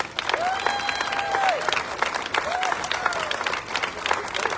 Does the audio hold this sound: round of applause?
yes